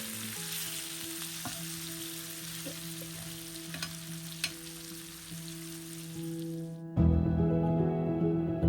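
Onion and green chilies frying in a pan, a steady close sizzle with small pops and crackles, turning louder and more intense near the end.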